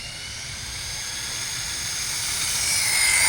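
Arrma Typhon 6S RC car run at full throttle on a 3S battery, a rising high-pitched electric motor whine with hissy drivetrain noise that grows louder over a few seconds, heard alone.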